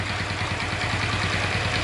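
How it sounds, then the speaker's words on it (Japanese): A Honda Chaly motorcycle engine idles close by with a steady, even chugging and a light rattling clatter mixed into the running. "ちょっとカチャカチャ音がするんですよ"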